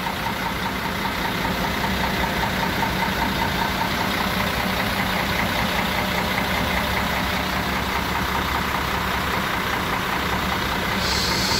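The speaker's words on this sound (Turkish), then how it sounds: "Şöyle biraz motor sesi dinleteyim size." A coach bus engine idles at a terminal platform, a loud, steady diesel rumble that holds constant throughout with no talk.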